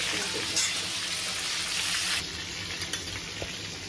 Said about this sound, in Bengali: চারপাশটা না খুব ভালো করে উল্টে পাল্টে একদম লাল লাল লাল করে ভাজতে হবে। ভীষণ তৈলাক্ত মাছ না?